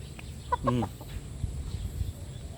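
A few short clucks from a chicken close by, rising briefly over a quiet outdoor background, then fading into low ambient noise.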